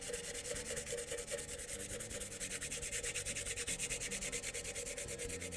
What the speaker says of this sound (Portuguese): Então, primeiro a gente dá uma lixadinha.